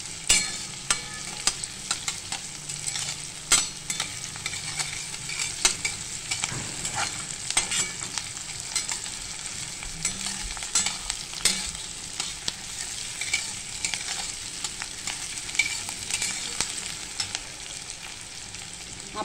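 Okra being sautéed in hot oil in a pan with onion and green chilli, a steady close sizzle with frequent stirring scrapes and clinks throughout, no voices.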